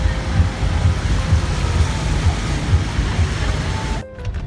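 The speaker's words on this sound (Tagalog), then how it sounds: "Malakas ang ulan." Heavy rain pours down in a dense, steady hiss with a low rumble beneath it, cutting off abruptly near the end.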